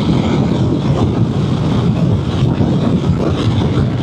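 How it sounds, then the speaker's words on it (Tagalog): Strong, roaring wind buffets the microphone while riding a Vespa GTS 300 scooter at highway speed, a loud, continuous low rumble with engine and road noise blended in, no talking heard. "Grabe yung hangin, sobrang lakas."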